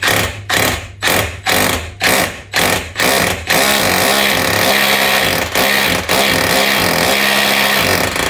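A long drill bit bores into a single brick wall, a loud near whine that pulses in about seven short bursts before running on steadily.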